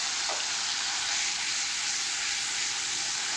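Ground spice paste with black cumin frying in a pan: a steady, loud, close sizzling hiss that runs on evenly without pause.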